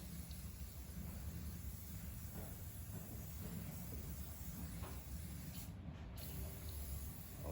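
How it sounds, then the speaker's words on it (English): Lubricant sprayed onto the plastic parts of an outboard boat engine, a steady continuous hiss that holds evenly for several seconds, close and alone with no talking. "I like to spray the plastics down."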